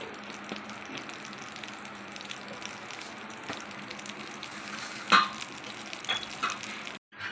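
Mustard seeds sizzle and crackle in hot oil, a steady close hiss with a few louder pops and a spoon scrape before it abruptly stops.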